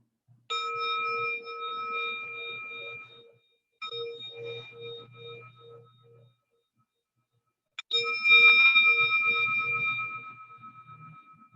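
Bell rung during a Hatha yoga class, three separate clear strikes, each ringing out with a pulsing, wavering tone that slowly fades; the last strike is the loudest, with quiet pauses between.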